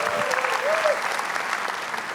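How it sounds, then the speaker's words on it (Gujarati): A comedy show audience claps loudly and steadily for a couple of seconds, with a faint cheer or whistle rising briefly above the applause. "તો નીરવભાઈ માટે જોરદાર તાળીઓ થઈ જાય એવરીબડી"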